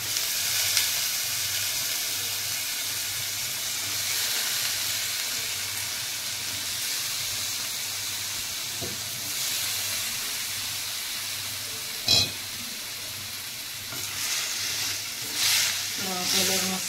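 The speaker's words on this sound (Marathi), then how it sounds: "आता आपण ही डाळ, त्याचं पाणी काढून डाळ आणि दुधी संगतच घालून घ्यायचे" Bottle gourd and soaked lentils sizzle and fry steadily in a pan, with occasional scraping and clatter of stirring breaking through the continuous hiss.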